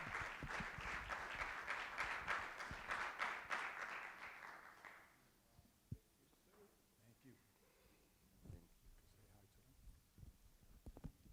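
Applause at a municipal council meeting fills the room for about five seconds, then cuts off, leaving quiet room noise with a few scattered taps and faint voices.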